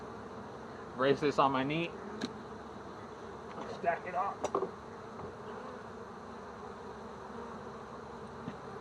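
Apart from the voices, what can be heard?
honey bees buzzing around hive box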